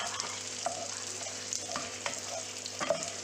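Onion frying in butter in a pan for capsicum paneer masala: a quiet, continuous sizzle with soft stirring scrapes at intervals and no talking.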